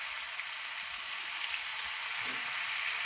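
Spices for chicken posto fry in a pan with a steady, even sizzle and hiss that runs unbroken throughout at moderate loudness, with no talking.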